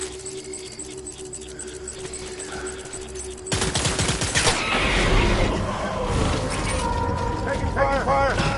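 Video game gunfire breaks out suddenly after a quieter stretch: loud, crackling bursts and clanking mechanical noise that keep going to the end, with a voice heard over the start.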